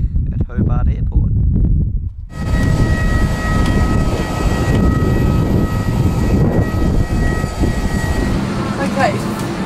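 Airplane engines at Hobart Airport spooling up loudly for takeoff, a continuous close roar from inside the cabin with a rising whine and a steady droning hum.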